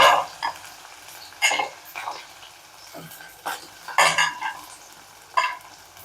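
Fennel seeds and onions go into hot oil in a pan for a spicy liver fry, giving a faint sizzle broken by several sharp scrapes and clatters of a spoon stirring against the metal.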